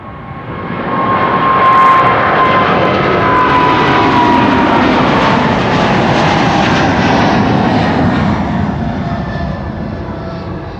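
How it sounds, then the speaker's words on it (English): A KLM Boeing 777-200 jet airliner moving at Amsterdam Schiphol, a loud, steady engine roar that swells in and holds for about ten seconds before easing slightly, heard alone without voices. "KLM flight 641 to New York. JFK on the move already. That's 777-200."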